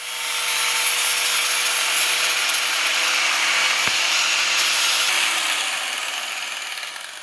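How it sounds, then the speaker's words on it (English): A harsh, steady grinding whine of a grinder smoothing a cut metal fan shroud on a Hummer H3, loud and continuous for several seconds, winding down at the end. "we went ahead and took a grinder to it just to smoothen it out"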